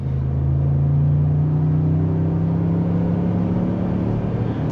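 A 2024 Ford F-150 Platinum 3.5L V6 4x4 pickup accelerates with a steady, droning engine note that rises gently in pitch and stays loud and close, heard from inside the cabin.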